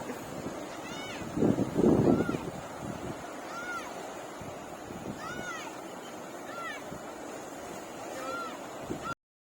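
Surf breaking at Kaup beach in Udupi, a continuous wash of waves with gusty wind noise on the microphone and a louder rushing swell early on.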